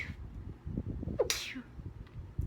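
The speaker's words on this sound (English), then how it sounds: "I'm about to sneeze." A single sharp sneeze bursts out after a quick intake of breath, close and loud, with soft rustling before and after.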